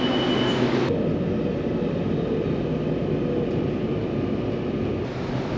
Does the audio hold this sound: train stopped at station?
yes